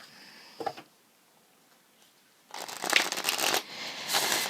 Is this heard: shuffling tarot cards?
yes